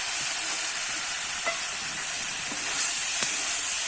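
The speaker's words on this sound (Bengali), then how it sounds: "আর একটু আমি এইভাবে কষিয়ে নেবো" Fried prawns sauté with egg and potato in a pan, giving a continuous loud sizzle with a few sharp utensil taps against the pan.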